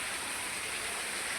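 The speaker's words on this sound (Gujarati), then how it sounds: "વરસાદ પડે છે ભાઈ ધોધમાર અત્યારે, અને ગરજે છે એવો વરસાદ" Heavy monsoon rain pours down in a village, a close, steady, dense hiss of falling water with no let-up and no voices.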